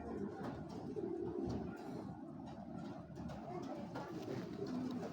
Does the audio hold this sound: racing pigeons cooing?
yes